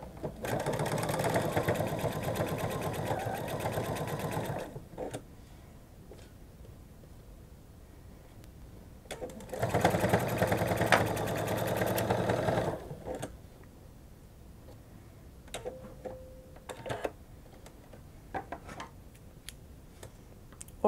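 A sewing machine stitches a seam on fabric for a frog pattern in two steady whirring runs of a few seconds each, separated by quieter handling noises and small clicks, close and moderate in level.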